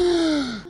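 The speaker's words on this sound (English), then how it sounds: "Why are you gasping like that, man?" A single short, voiced gasp, like a person plunging into cold water, drops in pitch and fades over under a second, loud and close.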